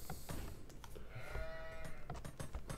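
Goats bleat repeatedly in a medieval strategy game campaign featuring Joan of Arc, short cries scattered over busy game sounds and clicks, with a sustained tone in the middle.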